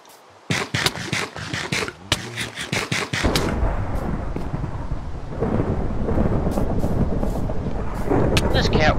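A Minecraft thunderstorm: a series of sharp cracking thunder strikes at the start, then loud, steady rain noise with occasional crackles.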